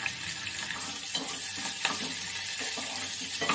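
Mustard seeds and curry leaves sizzle in hot oil with crushed garlic in a pan while preparing elephant yam sabzi, a steady close frying hiss with faint crackles and stirring scrapes.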